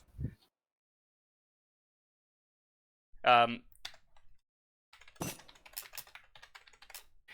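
Computer keyboard typing during an Age of Empires III match, with a short burst of voice before scattered bursts of clicky keystrokes, close and moderately loud.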